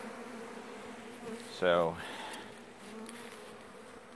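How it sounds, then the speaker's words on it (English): Honey bees buzz in a steady, low drone at an open feeding near a yellow jacket trap, with a brief spoken word cutting in once. "this is quite a little collection of bees we got going here"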